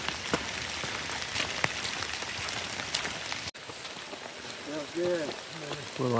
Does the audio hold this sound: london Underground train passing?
no